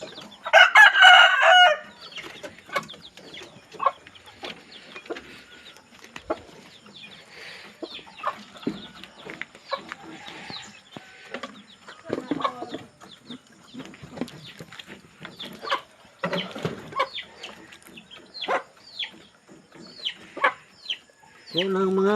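Chickens cluck busily at feeding time, with a loud rooster crow bursting out near the start, then steady scattered clucks and calls from the flock at close range.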